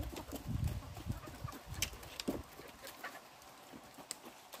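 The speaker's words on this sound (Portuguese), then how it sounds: "E as galinhas aqui agora são bravas," Farm chickens being fed corn cluck and scratch close by, soft irregular clucks and rustling pecks mixed with a few faint bird calls, with no talk.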